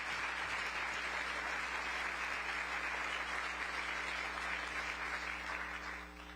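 Applause from the audience at a mayor's annual community breakfast, sustained clapping from a roomful of people that stays even and then tapers slightly at the end, with a low steady hum beneath.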